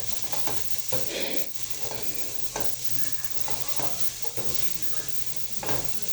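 Onions frying in a sufuria while beef loaded chips are prepared, a steady close sizzle with repeated stirring scrapes against the pan and no talking.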